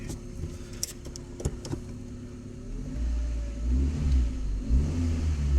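A 1.8-litre 7A-FE Toyota Corolla wagon AE102 with a five-speed manual pulls away on a test drive, a steady cabin hum building into a louder, deeper engine drone as it accelerates, with a few light clicks early on.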